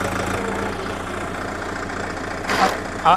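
A Solis JP 975 tractor engine runs at a steady mid-level drone, with a low rumbling hum throughout and a short louder surge near the end.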